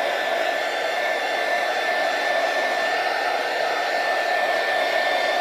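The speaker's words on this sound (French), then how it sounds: "Je sèche juste avec mon gun, histoire de pouvoir travailler." Steady, loud whooshing blower roar from a heat gun drying a Halloween shaker craft piece, held close and running continuously without a break.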